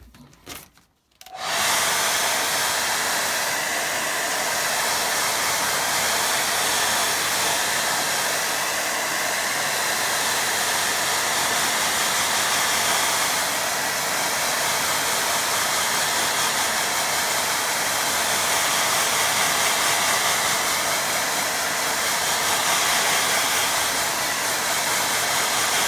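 A hair dryer blowing on a watercolour painting switches on after a brief pause and then holds a loud, steady, close whooshing hum for over twenty seconds with no talk.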